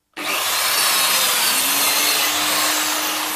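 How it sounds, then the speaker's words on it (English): A Mafell KSS crosscut saw starts abruptly and slices through wood, giving a loud, steady, close-up whine of blade cutting that holds without pause. "the KSS system allows you to make precise cuts from just a single mark"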